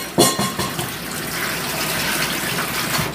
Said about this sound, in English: And then put some water in it.